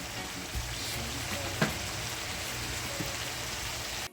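Shepherd's pie filling of browning meat sizzles steadily in a pan, a constant crackling hiss with a few soft clinks and stirs, close and unaccompanied by talk.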